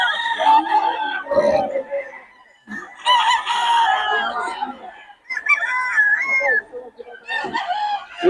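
Stag roosters crow repeatedly at a Bocaue poultry market, loud and close, with several overlapping crows and clucks amid a busy crowd murmur.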